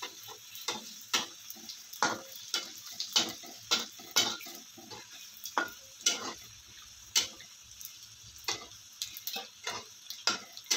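Wheat-flour modaks deep-fry two at a time in hot oil, giving off irregular sharp crackles and pops over a quiet sizzle, close by and with no voices.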